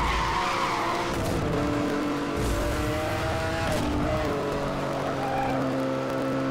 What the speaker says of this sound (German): Lass mich doch driften, SLS!